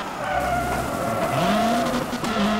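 A rally car in the WRC3 video game spins and skids, its tires squealing loudly over a constant engine drone for nearly three seconds, the screech bending in pitch as the car turns.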